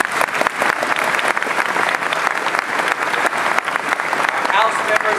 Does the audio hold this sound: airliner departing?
no